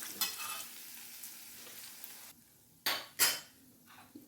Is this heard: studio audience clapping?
no